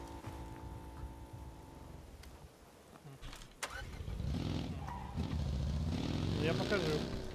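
A car engine in the video game PUBG hums steadily at first, then turns rougher and louder as it revs, with people talking over it throughout.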